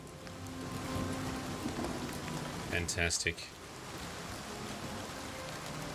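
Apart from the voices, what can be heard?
rain hitting water in the video game Oblivion Remastered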